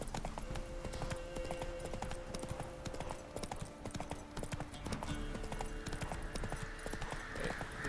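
Roach, the horse in The Witcher 3 video game, gallops with a continuous, rapid clip-clop of hooves, loud and close, running steadily over a low game background with a faint voice briefly audible.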